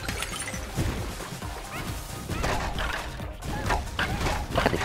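Glass smashes and shatters repeatedly in the Astro Bot video game, a run of loud crashes and tinkling shards breaking over several seconds.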